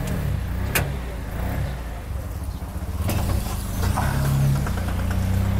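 An auto rickshaw drives along with a steady, close engine drone that swells slightly as it moves, broken by a couple of short clicks, with faint voices in the background.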